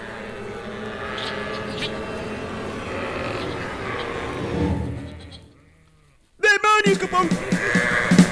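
Sheep in the video game Minecraft bleat several times over busy game sounds and music, then a brief near-silence gives way to a louder burst of bleating and chatter.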